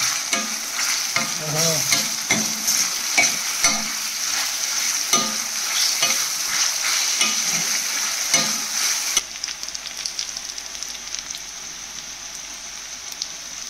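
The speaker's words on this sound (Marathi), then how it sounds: "आता जरा फ्राय करून घेऊया आपण" Tomatoes frying in a pan with a steady crackling sizzle, punctuated by repeated scraping stirs for the first nine seconds, then a quieter, even sizzle without stirring.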